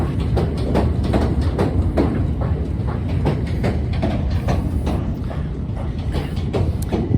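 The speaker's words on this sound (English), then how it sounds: "The train is passing behind us now." A train rolls past close behind outdoors, a steady loud rumble with repeated clattering wheel clicks running through the whole stretch.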